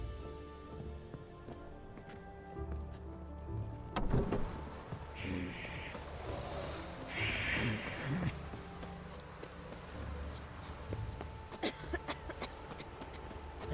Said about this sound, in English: Everyone is coughing.